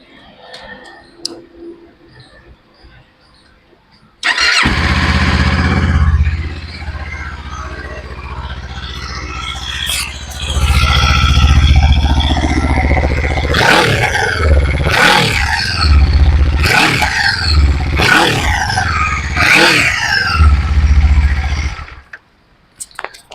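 Kawasaki Ninja 500 twin-cylinder motorcycle starts up and idles smoothly, then a series of four or five sharp throttle blips rev up and fall back, loud and close, before the engine cuts off.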